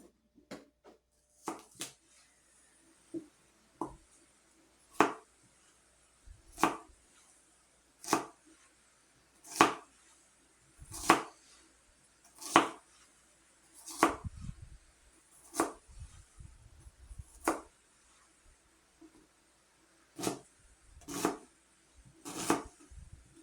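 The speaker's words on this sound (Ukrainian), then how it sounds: "Тепер беремося за цибульку. Чистимо і дрібнесенько ріжемо." A knife chops an onion on a cutting board in sharp, evenly spaced strokes, about a dozen distinct cuts with brief pauses, close and clear.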